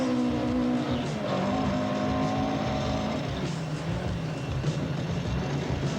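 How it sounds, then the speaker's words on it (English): A car takes a hairpin too fast and understeers, its engine droning loud and close with a shifting pitch while the tires rub and hiss over the road. "Too fast. Too fast. Look at the understeer. We're nearly off the road."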